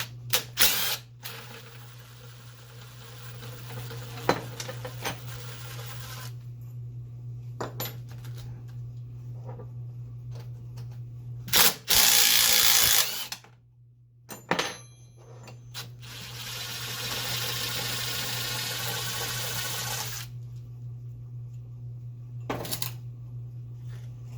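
Hand tools and metal fasteners on the 15 mm transmission mount bolts of a 1987 Chevy S10, with intermittent clicks, clanks and rattling bursts close by and a steady low hum running underneath, with no talking.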